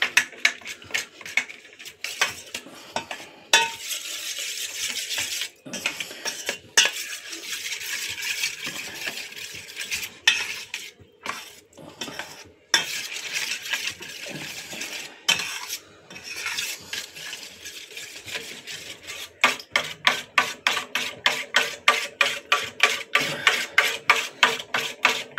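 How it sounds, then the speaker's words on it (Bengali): Chicken cutlet mixture with red chilli powder being mixed in a bowl, giving close, irregular scraping and rubbing strokes that turn into a fast, regular series of short rasping beats toward the end; no voices. "এক চামচ দিয়ে দিলাম লাল লঙ্কার গুঁড়ো। এবার এটা ভালো করে মিক্স করে নেব।"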